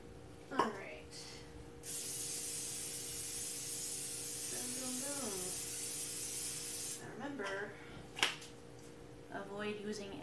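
Bacon in a pan gives a loud, steady sizzling hiss for several seconds, with a person talking before and after it.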